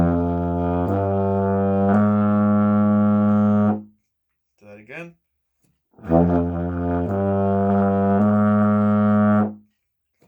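A tune played on a euphonium, low brassy sustained notes in two phrases separated by a short gap where a voice speaks briefly.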